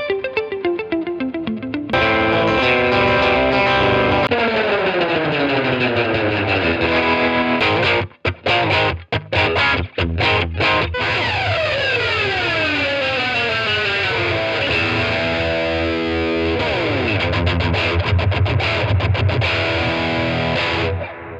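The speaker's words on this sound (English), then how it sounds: "today we're going to be dialing in some tones with the brand new Line 6 Catalyst 60." Electric guitar played through a Line 6 Catalyst 60 amplifier with effects, loud and continuous, with sweeping chorus-like modulation and distorted tones, a few brief choppy stutters in the middle, and no talking.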